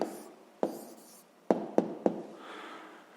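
A pen writes an answer in a notebook, making soft scratchy strokes broken by four sharp taps against the page, close and quiet with no voices.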